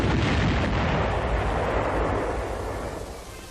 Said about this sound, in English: More firing is required because the rockets were fired too high.